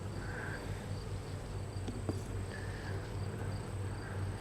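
Honey bees in an opened hive frame box hum in a steady, dense drone close by, with a continuous insect buzz and faint scattered clicks of handling underneath.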